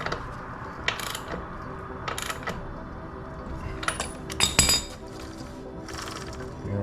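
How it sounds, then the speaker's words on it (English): A wrench ratchets and clinks as the rear axle of a Husqvarna Svartpilen motorcycle is tightened, giving irregular close metallic clicks and short bursts with no speech. "don't forget to torque your axle back to where it originally was"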